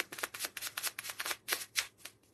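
Tarot cards being shuffled by hand, a quick series of crisp riffling and flicking bursts in a steady, uneven rhythm, close and clear.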